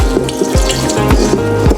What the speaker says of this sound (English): So let's wrap it, and what we're gonna do is squeeze the liquid out.